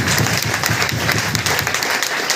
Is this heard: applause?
yes